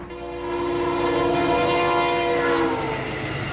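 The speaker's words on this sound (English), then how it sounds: "There's a train coming now." A train rumbles past while its horn blares in a long, sustained chord, loud and fairly close, fading slightly at the end.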